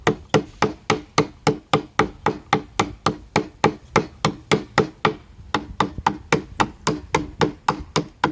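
A small, light trimming hatchet chopping wood, struck in a fast, steady series of sharp, loud whacks about three to four per second, close by and with no voices.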